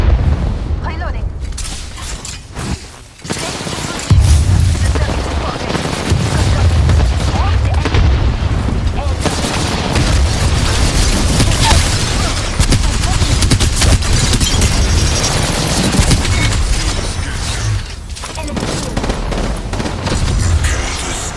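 Dense, sustained gunfire from an Apex Legends match, with rapid bursts and booming shots running almost continuously at close range, mixed with game effects and brief in-game voice callouts.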